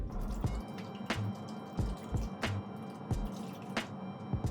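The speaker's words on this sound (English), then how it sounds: "Grab your ice tray and pour your coffee right in." Coffee pours into a plastic ice cube tray in a quiet kitchen, heard as a sequence of sharp drips and splashing trickles that come at irregular moments, fairly close.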